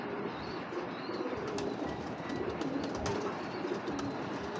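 A pedigreed female grizzle racing pigeon and nearby birds coo in low, steady murmurs through a continuous hum of background noise, with a few faint flutters and no voices.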